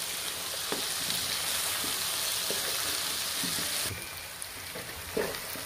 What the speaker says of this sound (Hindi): तो देखिए लोबिया हमारा भुन गया है